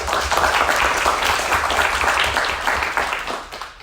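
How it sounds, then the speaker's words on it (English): A lecture-hall audience gives a dense round of clapping that holds steady for a few seconds before fading out. "let's give a round of applause"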